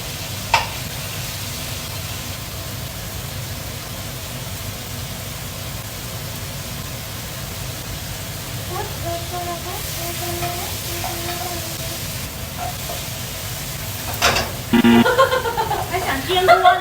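Potatoes stir-fried with minced garlic in a pan, a steady sizzle that runs throughout at an even level, with a few voices coming in briefly near the end.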